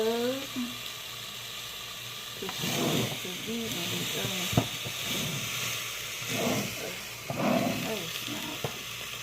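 Sizzling tuna steaks crackle in a hot pan, a steady frying hiss with occasional louder pops and soft clinks, a voice speaking intermittently over it.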